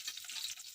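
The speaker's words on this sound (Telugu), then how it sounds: "తాలింపు గింజలు బాగా వేగినాక ఆనియన్స్ అవి వేసుకుందాం" Mustard and cumin tempering seeds with onions frying in hot oil in a pan, a steady soft sizzle with faint crackle throughout a short moment, no voices.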